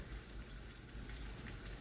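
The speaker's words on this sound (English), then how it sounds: "So when you're frying like this, you want to keep an eye on it because you don't want it too high" Potato wedges and Asian style wings fry in oil at home, making a faint, steady crackling sizzle throughout with no speech.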